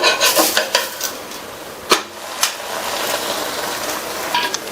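Sweet poli cooking on a pan in a ghee and oil mix, a steady sizzle under sharp metallic clinks and scrapes of a spatula turning it, close and fairly loud.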